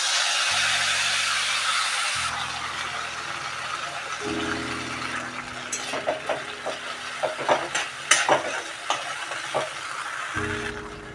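Whole cumin and a cardamom pod crackle in hot oil, then a ground spice paste goes in for cauliflower rezala, bringing a loud sizzle and quick, close scraping and clattering of a spatula against the pan.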